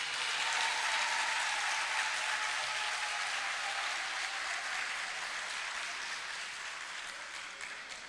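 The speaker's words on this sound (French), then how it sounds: "Je voudrais qu'on acclame encore plus fort l'honorable Brendoumi." An audience applauds at a political event in Côte d'Ivoire, where the PDCI RDA and PPA-CI announce a common front, cheering Brendoumi Soumaïla. The clapping is dense and sustained and eases slightly toward the end.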